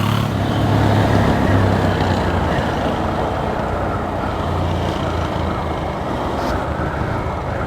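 A car overtaking on the road, heard as a steady, loud wash of traffic and engine noise through a motorcycle intercom, with wind rumble and no clear rise or fall.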